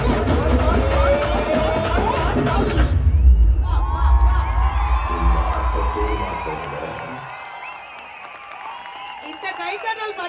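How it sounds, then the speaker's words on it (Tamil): An audience at a dance performance in Muscat, Oman cheers and claps, a broad crowd swell rising over music, then fading to quieter background noise. "இந்த கைத்தட்டல் பத்தாதே"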